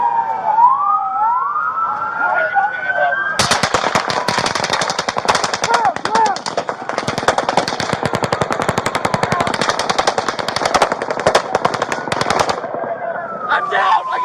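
A police siren wails before heavy gunfire erupts in a long, dense barrage of rapid shots during a police shooting, with the siren returning after the shots stop.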